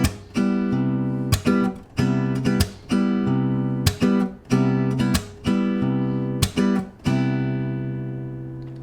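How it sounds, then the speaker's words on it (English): Acoustic guitar chords picked with thumb, index, middle and ring fingers on the inner four strings, each pattern broken by a sharp percussive hand slap, repeating in a steady rhythm of ringing chords and crisp hits, played alone. "I'm using my thumb, index, middle, and ring on the inside 4 strings and basically doing a hand slap"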